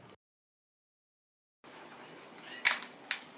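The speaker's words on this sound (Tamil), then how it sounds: "கரெக்டாக வச்சுட்டு இப்போ அந்த கேப்பை வந்து உள்ளே போட்டுறணும்" A plastic cap snapping into place on an MCB circuit breaker during a junction box upgrade, with one sharp close click followed by a smaller second click, set against low room noise after a brief silence.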